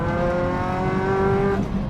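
A turbocharged Toyota GT86/Subaru BRZ engine pulls hard while accelerating through a corner, a steady rising harmonic drone heard close from inside the car, loud and continuous with no talk.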